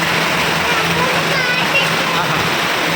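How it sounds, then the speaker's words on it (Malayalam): Heavy rain pours steadily, a dense close hiss of falling water with splashing, and a person's voice speaks over it. "നല്ല മഴ കേട്ടാ."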